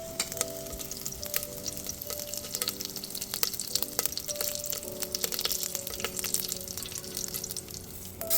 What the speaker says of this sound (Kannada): ಎಣ್ಣೆ ಕಾದ್ಮೇಲೆ ಇದಕ್ಕೆ ಒಗ್ಗರಣೆ ಸೊಪ್ಪು ಹಾಕಿ